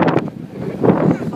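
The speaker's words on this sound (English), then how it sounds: "It's windy as fuck." Strong gusting wind blows across the microphone at an outdoor stop, a loud, uneven rumbling rush with short bursts.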